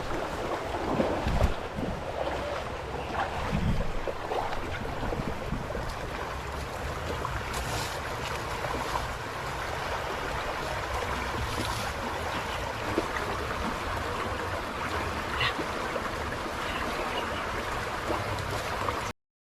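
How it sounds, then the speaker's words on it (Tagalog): Loud, steady rushing water fills the whole stretch, a dense broadband roar with wind buffeting the microphone and no clear speech. "Maingay yung tubig dito."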